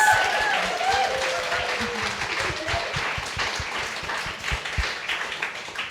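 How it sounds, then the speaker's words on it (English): An audience claps to welcome guests onto a conversation panel, a full round of steady applause throughout, with faint voices beneath it. "A round of applause for our guests."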